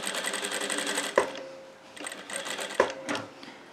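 A close sewing machine hums and clatters while stitching along the other side of a double glasses case, broken by two sharp mechanical clacks as the run pauses and restarts.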